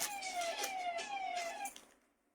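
An ambulance siren wails outside a shop, a steady rising and falling tone heard from some distance that fades away near the end.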